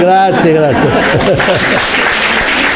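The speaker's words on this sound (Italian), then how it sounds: "Un applauso per Michelangelo." An audience at an Italian arts gathering claps for Michelangelo. A voice speaks briefly at the start, then a full, even round of applause takes over and carries on steadily.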